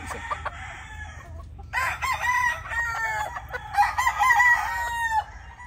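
Python Gray chickens crowing and clucking close by, with several overlapping crows and clucks over low background noise.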